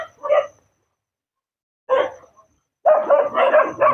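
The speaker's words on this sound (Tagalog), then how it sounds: "nagkakagulo yung mga aso dito" Several dogs bark loudly and close by outdoors, in short bursts separated by silence and then a longer run of overlapping barks.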